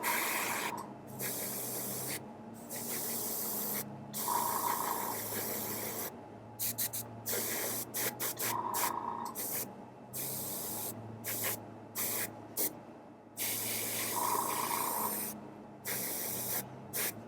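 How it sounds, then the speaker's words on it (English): An airbrush at lowered pressure sprays paint onto the feet of a timber wolf miniature in short, hissing bursts broken by brief pauses, close and fairly loud, with no speech. "we're going to be spraying kind of the bottom of his feet here"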